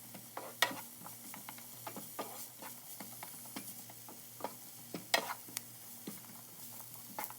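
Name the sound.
minced garlic sizzling and being tossed in a pan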